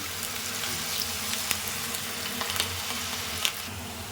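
Radish pieces and curry leaves frying in hot oil, a steady soft sizzle running throughout with a few faint clinks and stirring touches, no voices.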